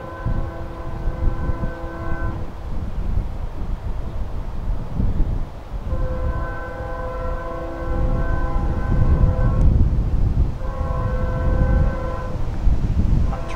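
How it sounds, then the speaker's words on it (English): A freight train with a sustained horn blowing in repeated long blasts over steady rumbling rail noise, loud and close, outdoors by the track with wind on the microphone. "right where that train is"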